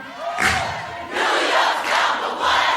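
A crowd shouts back in unison, several loud bursts of voices answering a call with "New York's number one," with a brief lull between each roar.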